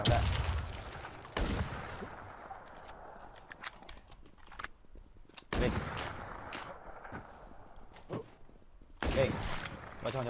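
Gunfire rings out in a video game as several sharp bursts of rapid shots, separated by quieter gaps. The shooting is moderately loud and comes over faint background game noise.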